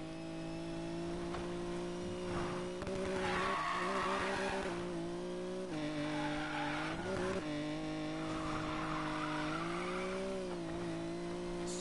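Race cars in the Need for Speed Payback video game, engines droning and revving under long, loud tire squeals and skids that rise and fall continuously throughout.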